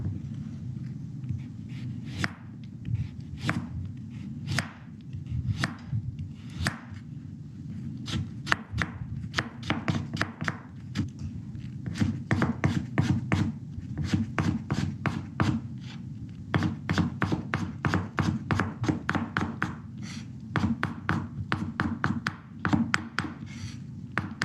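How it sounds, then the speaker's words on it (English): A knife cuts carrots on a cutting board in steady, rapid chops, close and crisp, in a long uninterrupted run that speeds up toward the end with no talking. "Now let's cut some carrots."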